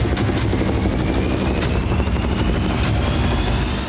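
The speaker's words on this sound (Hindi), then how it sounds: "भारत में बने 2 एडवांस्ड लाइट हेलीकॉप्टर ध्रुव रणभूमि की तरफ बढ़े।" Two HAL Dhruv advanced light helicopters fly over the Pokhran range during the Bharat Shakti military exercise, a loud, close rotor chop beating in a fast steady rhythm over a continuous roar.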